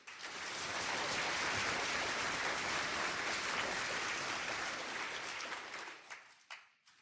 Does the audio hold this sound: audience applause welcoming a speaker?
yes